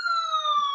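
A siren wails steadily for under a second, its bright, slightly falling tone ringing clearly and loudly with no voices over it.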